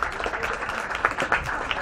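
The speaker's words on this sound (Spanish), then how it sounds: "pido un fuerte aplauso para don Adrián" An audience applauds don Adrián at a gift presentation ceremony, with a brief, moderately loud patter of clapping and a few sharper claps standing out.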